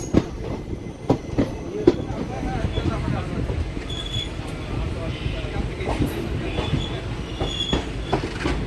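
The Meenakshi Express rolls along the tracks near Villupuram on its Tirupati to Rameshwaram run, with a continuous rumble of wheels, several sharp clanks over rail joints early on, and faint squeals of wheels against rail.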